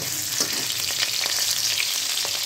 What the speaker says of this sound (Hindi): तेल गर्म हो गई है, पहले आलूओं को ढालकर अच्छी तरह से लाल कर लूँगी